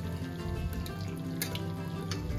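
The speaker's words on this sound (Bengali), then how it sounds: "গরম জল দিয়ে দিচ্ছি" Hot water poured into a pressure cooker of mutton curry, a steady rushing pour with faint bubbling sizzle, continuous and close with no talking.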